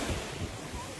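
Ocean surf near the shore at Nha Trang, a steady broadband wash of waves with wind noise on the microphone, loud and continuous throughout.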